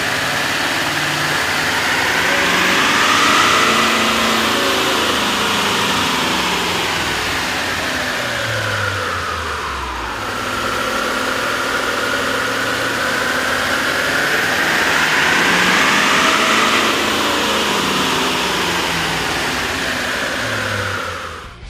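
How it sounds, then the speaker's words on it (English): Pickup truck engine fitted with a K&N cold air intake running on a dynamometer, a steady loud drone that rises and falls through two smooth rev sweeps, with no talking. "we ran the vehicle on the dyno to test the sound comparison versus the stock intake"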